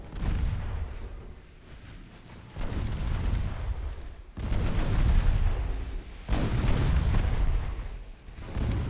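Small caliber naval guns in Ultimate Admiral Dreadnoughts fire in heavy, rolling bursts, loud booming salvos that overlap into a continuous roar and break off abruptly between volleys.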